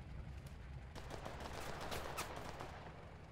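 Faint gunfire crackles in a tactical war video game, a quiet spray of rapid shots and bursts from a distance, steady and low with no talk over it.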